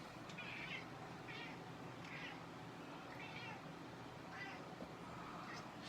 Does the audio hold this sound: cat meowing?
yes